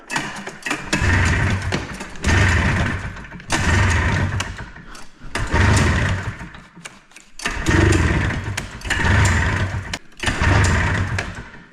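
An Arctic Cat engine is cold-started on leaded race gas: six rough, loud bursts of cranking and brief running, each lasting a second or two and separated by short silent gaps.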